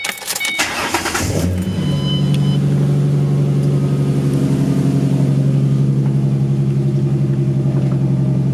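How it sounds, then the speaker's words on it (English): A 2008 Ford Mustang with the 4.0 V6, still on stock cams, cranks briefly and catches, then settles into a steady, loud, close idle with a deep even rumble. "let's go out for the final start of the Mustang until the cams are in"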